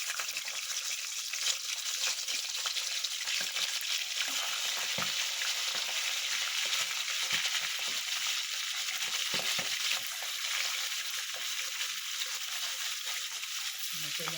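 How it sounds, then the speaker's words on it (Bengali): Fish heads frying in hot oil in a pan, a continuous dense crackling sizzle that stays steady and close throughout, without talking. "মাছের মাথাগুলো আমি কড়া করে ভেজে নেব"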